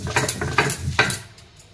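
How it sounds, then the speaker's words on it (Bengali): Bottle gourd leaves are ground into a fine paste, a few close, rhythmic scraping and knocking strokes that taper off near the end. "এটাকে বাটবো, দেখ মিহি করে বাটবো"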